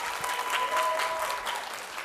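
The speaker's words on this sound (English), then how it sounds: "Round of applause for Madison." An audience at a family science night on stage claps in a sustained, even round of applause lasting a couple of seconds, with no voices over it.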